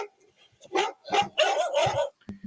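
Dog barking, a run of several loud close barks in quick succession, heard alone without talk.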